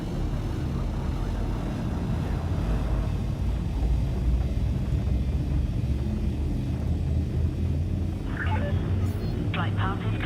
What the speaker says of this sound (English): Frameshift drive charging.